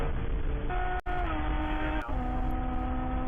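Porsche race cars scream around the Willow Springs circuit, several engines droning at high revs with gear shifts and pitch changes as they pass, loud and continuous with no talk.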